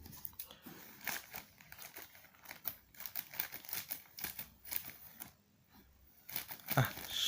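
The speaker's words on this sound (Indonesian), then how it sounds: "coba gunting dulu nih." Scissors cut into the plastic packaging of a helmet mount, giving close, irregular snips mixed with crinkling and tearing of the wrapper, in short bursts with brief pauses.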